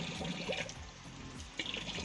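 Caustic soda lye solution poured into a batch of homemade natural coloured laundry soap, a steady close liquid stream splashing continuously for about two seconds, no talking.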